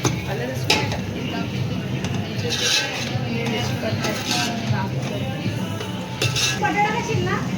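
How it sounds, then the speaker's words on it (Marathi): Tomatoes and masala fry together in oil in a pan, with a spoon clinking and scraping against the metal in irregular bursts over a low sizzle, while a voice talks underneath. "हे सगळं एकत्र व्यवस्थित फ्राय करून घेणार आहे"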